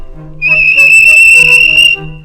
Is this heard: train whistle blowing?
yes